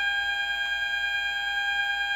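A Fireguard 4000 fire alarm sounder emits a continuous, steady high-pitched electronic tone, unbroken and alone at a constant level.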